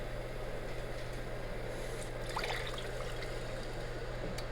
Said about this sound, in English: And just keep whisking.